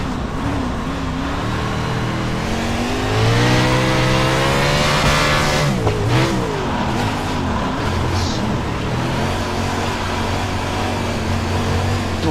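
A USAC race car engine in the iRacing simulator drones loud and close, its pitch climbing and falling as the throttle is feathered, with a brief dip midway before settling into a steady high roar.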